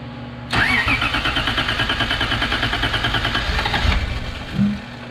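A car engine cranks steadily for about three seconds, the starter churning in a fast rhythmic pulse close by, then cuts off with a short rumble as it fails to catch.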